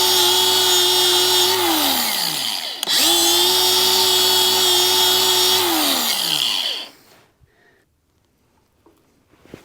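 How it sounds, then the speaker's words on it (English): A grinder facing down metal parts for a 1980 Dodge W200 leaf spring install whines loudly in two bursts, each winding down in pitch, before a quiet stretch with faint knocks. "take the grinder and face them down a little bit with a grinder"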